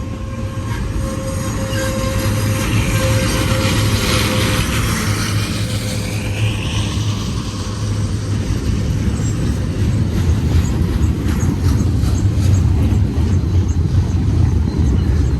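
A westbound BNSF port stack train led by GE ET44C4 No. 3780 with GE C44-9W No. 5255 rolls past, a loud steady rumble of wagons with squealing wheels rising and falling over it.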